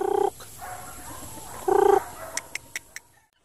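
Young cockerels in a backyard give two short, loud clucking calls, followed by a few sharp faint clicks and light background rustle.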